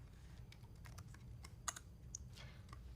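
Quiet keystrokes on a computer keyboard, scattered irregular taps entering a terminal command with tab completion over a low steady hum, no voices.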